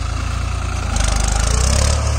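A tractor engine hauling a heavy reversible plough runs with a loud, deep, steady throb close by, growing a little louder partway through.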